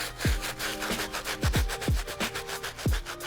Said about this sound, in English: just buff out any existing marks, scuff marks that might be here